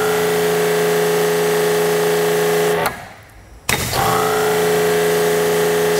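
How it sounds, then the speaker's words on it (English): A custom-installed pressure washer pump hums steadily at close range, cutting out abruptly for about a second before starting up again at the same level. "here's how loud it is. I'm standing right next to the pump."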